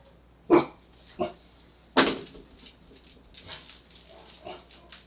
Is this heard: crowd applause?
no